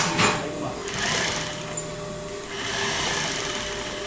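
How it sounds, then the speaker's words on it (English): The bobbin winder on a sewing machine winds thread with a steady, close mechanical whir that rises and falls in intensity, and a faint voice is heard in the background. "I engage my bobbin winder"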